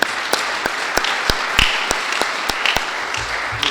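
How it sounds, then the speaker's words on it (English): An audience applauds at a groundbreaking ceremony for the Athens Armory, a scattered, steady patter of many hands clapping at moderate distance, continuing evenly with no voices over it. "I want to give them a huge round of applause for all the work that they're doing."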